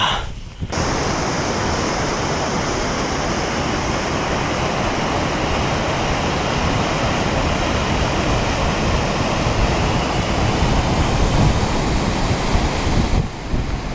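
River water rushing steadily across open Scottish bog on a wild camping trek, a continuous broadband roar with gusty wind noise on the microphone, loud and unbroken throughout with no talking.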